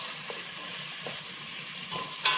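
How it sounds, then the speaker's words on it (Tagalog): Onions frying in oil in a pan, browning with a soft continuous sizzle and a few faint stirring taps, fairly quiet and without talk. "Pa-brown-brown sana siya guys. Dire, abunda og sibuyas."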